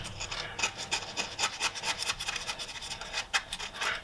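Close, steady scraping as a razor blade cleans the gasket surface of an Opel Corsa C thermostat housing, a rapid rasping rub repeated in short strokes with no talking.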